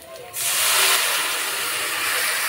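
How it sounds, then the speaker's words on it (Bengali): Water poured into a hot cooking pan of taro and potatoes sets off a sudden loud hiss of steam that bursts in and holds as a steady sizzling rush. "এবার সিদ্ধ হওয়ার জন্য জল দিয়ে দেবো"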